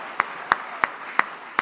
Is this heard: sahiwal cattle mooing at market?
no